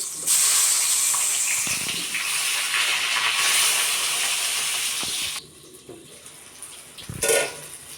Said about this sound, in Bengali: তেল আছে এই তেলে বেগুনটাকে আমি ভেজে নেব